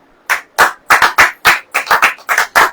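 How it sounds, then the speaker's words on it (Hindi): Audience in a church gathering clapping hands in unison, about ten loud, close, evenly spaced claps with brief silences between them. "ताली बजाओ"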